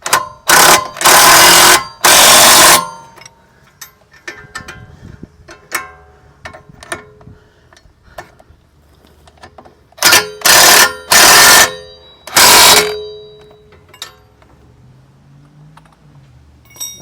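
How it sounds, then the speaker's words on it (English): Ratchet snugging down bolts on a CV axle of a 2014 AWD 3.6-litre Dodge Journey, with dense close ratcheting bursts at the start and again later, quiet clinks and shuffling between them. "And I'm going to tighten these bolts down snug,"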